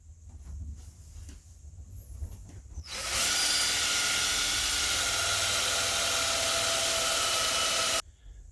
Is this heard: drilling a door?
yes